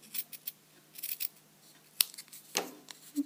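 Scissors trimming paper for a handmade card craft, with a few short snipping cuts and light paper rustles, close and quiet.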